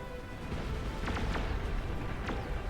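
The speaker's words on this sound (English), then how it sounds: "I heard more explosions." Explosions in Beyond All Reason, an 8v8 real-time strategy battle, come as a few sharp distant booms and crackling bursts over a steady rumbling battle din, with no talk.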